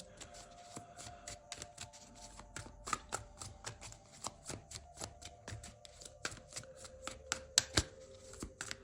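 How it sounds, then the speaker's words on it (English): Tarot cards being shuffled and pulled at a reading: a quick run of crisp riffling snaps and flicks, close and fairly quiet, growing a little sharper toward the end, with no talk over it. "let's go ahead and pull one of these cards"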